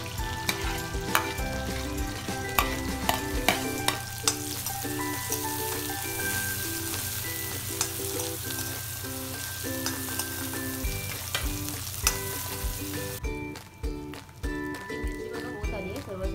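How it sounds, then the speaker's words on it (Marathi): Green chilies fry in a pan for a village-style vegetarian thali, a busy sizzle dotted with crackling pops and clicks of stirring, while a person talks over it throughout. "त्याच्यात मिरची टाकते. मिरची तटाने सुरुवात झाली आहे."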